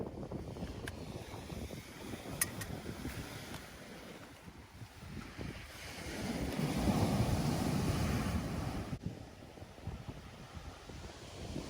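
Wind blows across a beach while surf rolls in, a low constant rumbling rush that swells in the middle, with a few faint clicks and no voices.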